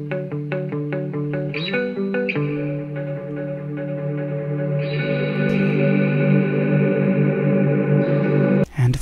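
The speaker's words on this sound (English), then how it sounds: "let's put a little reverb on that guitar" Electric guitar chords treated with Valhalla Vintage Verb reverb, strummed in a steady rhythm with a lush, spacious wash and long ringing tails that build and sustain, loud and close, with no talking.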